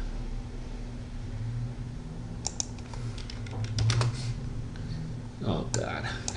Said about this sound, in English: You just type watchotrade.